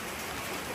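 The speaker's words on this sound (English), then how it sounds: "It's raining." Rain falls steadily with a dense, even hiss, close and constant throughout, with no voices heard.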